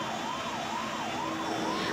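A 108 ambulance siren wails during an earthquake mock drill in Sundarnagar, its rising and falling tone cycling steadily and loudly over a constant background rumble, with no voices.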